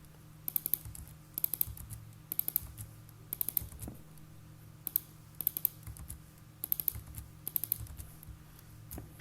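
Someone is typing on a computer keyboard while writing code in Visual Studio 2022, giving quick clusters of crisp key clicks in short bursts with brief pauses between them, close and fairly quiet over a low steady hum.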